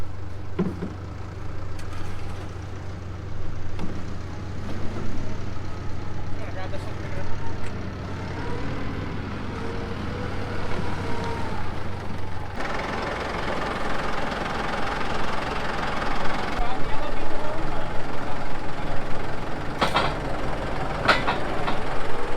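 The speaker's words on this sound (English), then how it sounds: "I tell you what, Joel really gave it the beans in the tractor" Tractor engine running during a bean harvest, a loud continuous rumbling drone with knocking and rattling, shifting in tone partway through.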